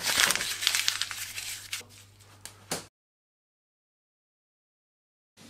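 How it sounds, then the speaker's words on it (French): A sheet of paper scrunched up close to the microphone: busy crinkling crackles that fade over about three seconds and end in a final crisp crunch, then silence. "En froissant la feuille de papier."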